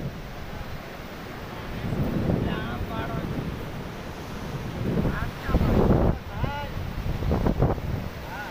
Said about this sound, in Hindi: बारिश की वजह से काफ़ी बड़ी बड़ी लहरें आ रही हैं, ऊंची ऊंची लहरें आ रही हैं।